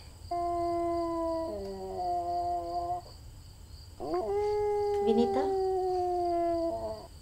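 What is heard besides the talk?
dog howling and barking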